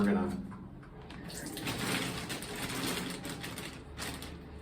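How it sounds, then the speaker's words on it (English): Water runs steadily into a hotel sink for hand-washing laundry, with a hissing, splashing rush, while a voice speaks at the start. "fill that up with water just a little bit"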